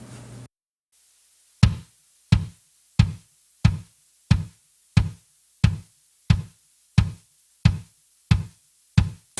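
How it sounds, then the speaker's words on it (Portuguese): A kick drum thumps alone in a steady, evenly spaced beat during mixing, each hit punchy and deep with a short decay, after a brief moment of silence. "Então vamos dar uma olhada no som do bumbo."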